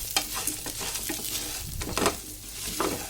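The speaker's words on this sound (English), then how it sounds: "Saute the onions for few seconds." Onions sautéing over a low flame in a pan for curd curry, a steady close sizzle broken by several louder stirring scrapes and clatters, with no talking.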